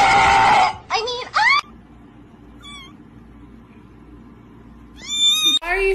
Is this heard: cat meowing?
yes